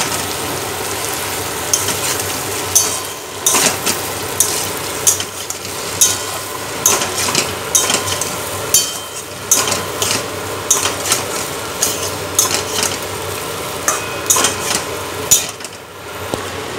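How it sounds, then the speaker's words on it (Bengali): Boiled, salted taro and potato are stirred and fried in a pan, with a steady sizzle broken by repeated scraping clacks of the spoon against the pan at an irregular rhythm, close up and without talk. "এই যে কচু আলুটাকে আমি কষছি"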